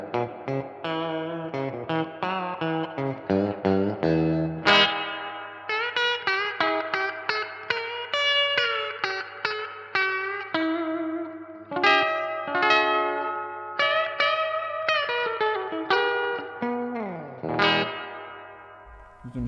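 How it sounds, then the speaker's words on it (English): An electric guitar plays single notes and chords through a Source Audio Collider pedal set to a spring reverb modeled on an old Fender amp, each note trailing a splashy decay, with no talking. "this is simulating obviously a spring reverb like in an old Fender"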